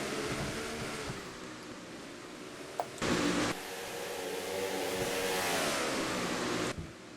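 Race cars roar together at the green-flag start of a simulated stock car race, a steady, loud, layered engine drone with rising pitches as the pack accelerates, broken by a short burst of louder noise partway through.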